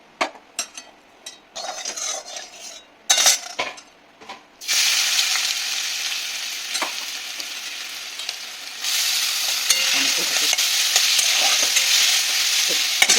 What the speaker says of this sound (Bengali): এখন আমি আগে ছাতুটাকে ভালো করে ভেজে নেবো